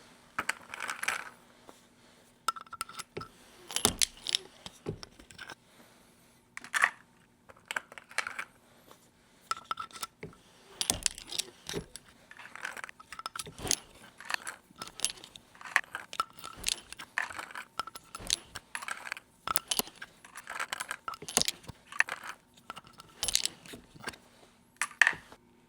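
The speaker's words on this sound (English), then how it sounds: "Decapping ASMR." Spent 22 Creedmoor rifle brass being decapped, a long run of sharp metallic clicks and clinks in irregular bursts, close and crisp against a quiet room with a faint hum.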